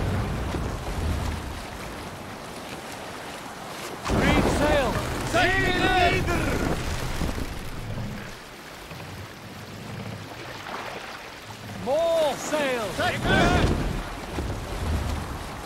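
A Viking longship sails out over the waves in Assassin's Creed Valhalla, with continuous wind and water rush and surges of surf throughout, broken by loud shouted voices.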